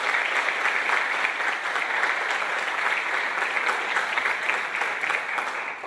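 Audience applause at a panel on capitalism and the 1929 crisis: dense, steady clapping from a sizable crowd, fairly loud and continuous for about six seconds without talk.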